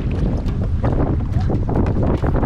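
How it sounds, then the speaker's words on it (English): Strong wind roars and buffets the microphone without letup while a canoe is paddled on a river; no voices are heard over it. "The wind is killing us, Itai."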